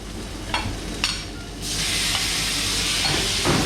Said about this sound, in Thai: แล้วเราก็ค่อยๆผัด ผัดให้เครื่องแกงหอมนะครับเร่งไฟได้